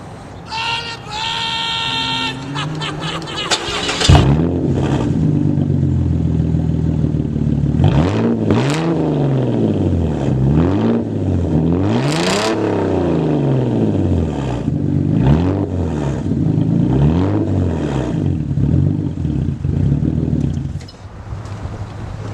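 A Mazda 6 fitted with a custom 2.5-inch straight-pipe exhaust cranks with a starter whine, catches, then revs repeatedly: loud, raspy rises and falls of the engine, close by and with no talking.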